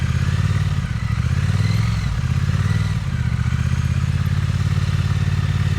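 Motorcycle engine idling and pulling at low speed during slow-speed riding practice, a steady near low rumble with slight throttle swells, running continuously with no talk.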